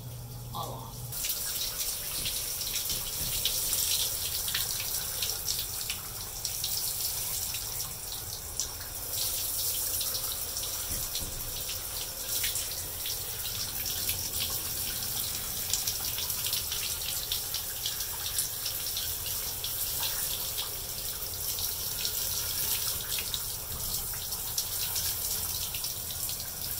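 Tap water runs steadily while perm solution is rinsed out of hair, a continuous close hiss and gush of flowing water with faint splashing, unbroken for the whole stretch and with no talking.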